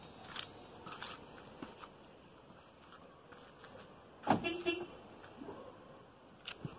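A Renault Triber RXZ locks itself as its owner walks away, giving a single short chirp-like beep midway through quiet outdoor ambience, with a few faint clicks around it.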